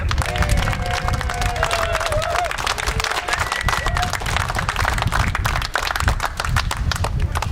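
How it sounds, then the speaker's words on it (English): Crowd clapping and cheering at an outdoor Labour political rally on the Isle of Wight, a steady dense roar of hands with occasional voices and shouts mixed in throughout. "So a big round of applause for Julian."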